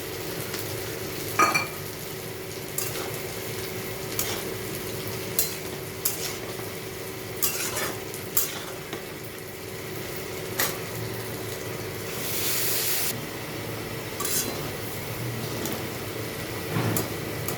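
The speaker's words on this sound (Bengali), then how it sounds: "তো আলু পেঁয়াজটা ভাজা হয়ে গেছে" Potatoes and onions frying in a pan for chow mein with chopped chillies, a low steady sizzle under clear scrapes and clinks of a spatula stirring at irregular intervals, close by with no talk.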